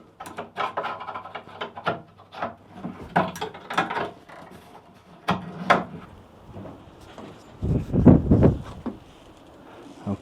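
Little bolt being worked loose on a catamaran during a refit, a series of short scraping, clicking and rubbing bursts at close range, uneven in rhythm, with a louder rattling cluster near the end.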